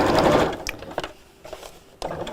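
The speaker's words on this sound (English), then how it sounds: "Ideally, you should be sewing just up against the edge of the foam." A sewing machine stitches fabric right along the edge of a foam piece, its steady mechanical whir running close and loud for about two seconds with a short pause, then starting again.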